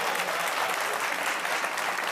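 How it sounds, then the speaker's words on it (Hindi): Audience at a patriotic poetry show applauding, a dense sustained clapping from a large crowd, loud and even throughout. "इस बात पे ताली बजनी चाहिए"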